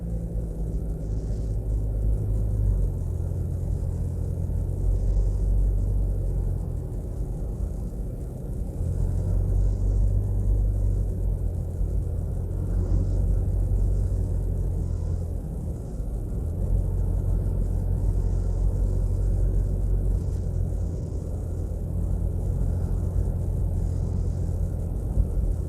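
A car driving along the Northern Coastal Highway near St. Ann's Bay, Jamaica, heard from inside as a steady low engine and road rumble, continuous and fairly loud, rising and easing gently with no talk.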